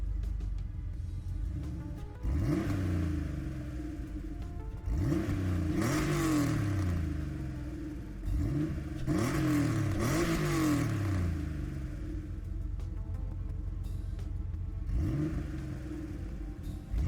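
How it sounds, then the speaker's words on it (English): A 1962 Volkswagen Samba bus Type 2 fitted with a Porsche 911 engine, in a racing video game, revs repeatedly, with engine pitch climbing and dropping in several bursts over a steady rumble, loud and close without talk. "I am doing the Volkswagen Sambabus Type 2 1962 with the 911 motor"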